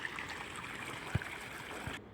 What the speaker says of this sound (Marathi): हे विहिरीतलं पाणी आता सध्या शेततळ्यामध्ये सोडलं चाललेलं आहे